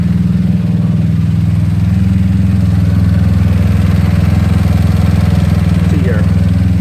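A GY6 scooter engine with an OKO PWK 30mm carburetor and decompression tube idles steadily nearby, a loud, even low-pitched drone with a rapid pulsing throb throughout.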